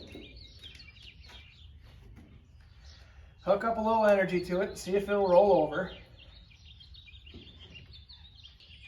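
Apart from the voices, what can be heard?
birds chirping outdoors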